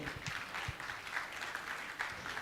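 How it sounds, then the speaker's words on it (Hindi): Audience applause at an honouring ceremony during a Jain religious gathering, a dense steady patter of many hands clapping throughout, moderately loud with no talk over it. "आप जोरदार ताली बजाकर इनका सम्मान करें।"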